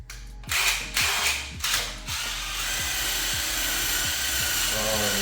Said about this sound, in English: we'll wipe it down and go after it with the wire wheel